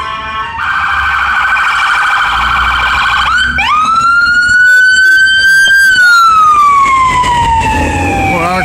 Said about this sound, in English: That was Engine 5 and Empress ambulance.